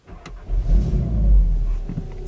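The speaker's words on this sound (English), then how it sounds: "Just put your foot in the brake and hold in the engine start stop button to start." A 2016 Volkswagen Golf R fires up by push-button start, its engine catching with a deep low rumble that swells briefly and then settles into a steady, close idle.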